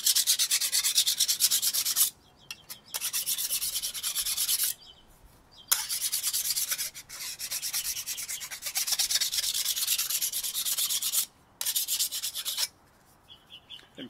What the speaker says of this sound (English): Now, I'm flattening that edge.